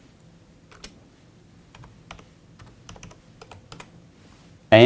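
Someone types on a computer keyboard with a sparse run of light, irregular key clicks over a quiet background, and a sudden loud burst cuts in right at the end.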